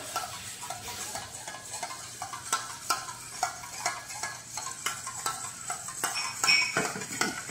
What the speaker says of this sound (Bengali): দইটাকে ভালোভাবে ফাটিয়ে নেব।